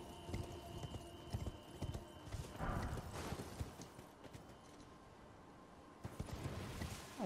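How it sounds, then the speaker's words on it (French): Rapid, irregular hoofbeats of a galloping horse in the video game Elden Ring clatter close by, with a brief whinny and some faint speech in the background. "on va se balader en cheval"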